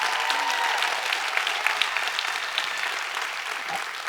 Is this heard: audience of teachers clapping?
yes